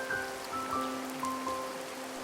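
Steady rain patters on a surface, an even wash of drops with no voices.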